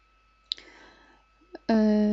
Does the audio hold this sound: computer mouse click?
yes